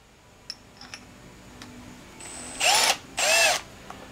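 A cordless drill runs in two short bursts, each about half a second of whining motor, close and loud, drilling a hole in a bench build, preceded by a few small clicks and taps.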